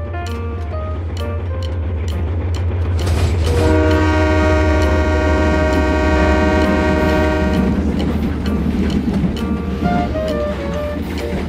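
A toy model of a CC201 diesel locomotive playing its train sounds: a loud, continuous rumbling drone, with a sustained horn-like tone swelling through the middle, heard close and without talking.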